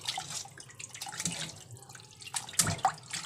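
Tap water runs and splashes while market-bought chicken is rinsed in a sink, a quiet, uneven stream with small splashes and drips, heard fairly close.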